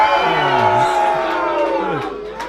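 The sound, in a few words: crowd booing and cheering at an arm-wrestling event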